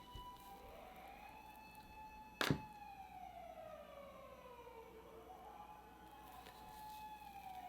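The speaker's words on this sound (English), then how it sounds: "Geez, those sirens really throw me off." Emergency sirens wail outdoors at a moderate distance, rising and falling in long sweeping tones throughout, with a single sharp thunk partway through and a second siren layer joining near the end.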